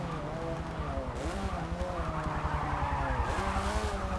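A vintage sport compact race car in Forza Motorsport 7 drones steadily as its engine pitch climbs and falls through gear changes, with tire squeal and skidding mixed in, loud and continuous.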